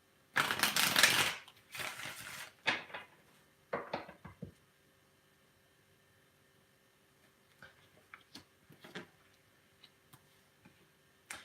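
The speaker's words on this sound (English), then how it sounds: "One last shuffle." Tarot cards shuffled in a few quick riffling bursts, then lighter scattered taps and flicks as they settle, close and otherwise quiet.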